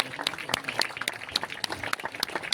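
Scattered applause from a crowd at a zoo groundbreaking ceremony, sharp irregular claps that stay moderate and sparse rather than building into a full ovation.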